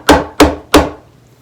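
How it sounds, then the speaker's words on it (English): Three sharp, evenly spaced hammer blows drive a fret into the fretboard slot of a 1970s Gibson ES-347 guitar, each a close, bright knock that quickly decays. "Once you hammer it into the slot, the crimp kind of straightens back out"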